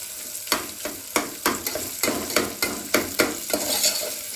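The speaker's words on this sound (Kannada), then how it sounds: "ಈರುಳ್ಳಿ ಸ್ವಲ್ಪ ಗೋಲ್ಡನ್ ಬ್ರೌನ್ ಬರೋವರೆಗೂ ನೀಟಾಗಿ ಫ್ರೈ ಮಾಡಬೇಕು." Onions frying toward golden brown, a steady sizzle punctuated by a quick regular series of about a dozen spatula scrapes and stirs, close and fairly loud, with nobody talking.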